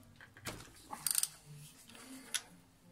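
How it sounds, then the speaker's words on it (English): Metallic ratcheting and clicking as the oil cover cap is removed from a VVT pulley during cam timing work, a quiet cluster of quick clicks followed by a single sharper click later, with no talk. "I'm just now going to remove the cap here"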